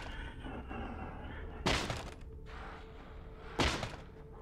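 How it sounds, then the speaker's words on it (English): A hatchet smashes against a door in a video game, with two heavy, sharp impacts about two seconds apart, loud and close over a steady game background hum. "This hatchet is making a lot of noise."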